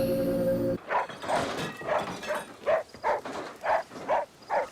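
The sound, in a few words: dog barking and whimpering in TV show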